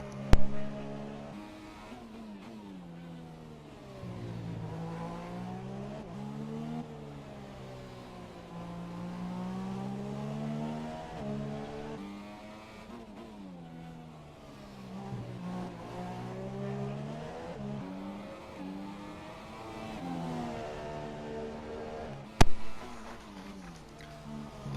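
Race cars during Brazil qualifying rise and fall in pitch as they pass and slow toward the pits. Engine tones swell and fade repeatedly over a steady background, with a sharp transient near the end.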